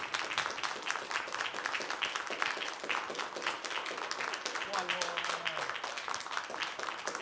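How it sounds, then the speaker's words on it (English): Sustained applause from a crowd at a recital, many hands clapping in a dense patter that holds steady throughout. "give them one last round of applause for their hard work and dedication"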